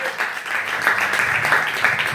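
Steady church congregation applause with a dense, even texture that holds for a couple of seconds, moderately loud.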